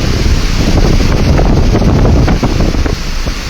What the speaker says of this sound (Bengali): প্রচণ্ড বেগে ঝড় এবং বৃষ্টি